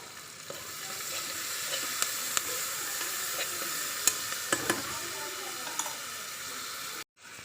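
Tomato and garlic paste sizzles in hot oil in a pan for chicken gravy, giving a close, steady hiss with occasional crackles and stirring clicks before it cuts off abruptly near the end.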